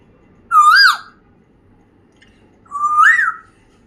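African grey parrot mimicking an Asian koel's call, two loud rising whistled notes about two seconds apart, close and clear over a faint low hum.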